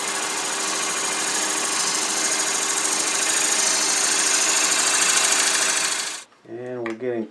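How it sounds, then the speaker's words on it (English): A wood lathe spins a wooden table lamp base while a negative rake scraper shaves it, making a loud, steady droning whir that runs close and continuous before cutting off, followed by a brief spoken voice. "So I use my negative rate scraper and just get rid of some of these bumps."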